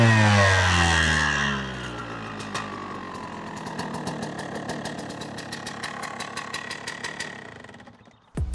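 A motorcycle engine runs after starting, a strong steady roar at first that settles into a rough, popping idle with irregular knocks, then cuts out near the end.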